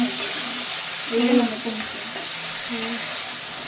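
Shrimp stirred and mixed with ground spices in a pan with a little water, a steady soft sizzle and scraping of the stirring utensil, with faint talk in the background.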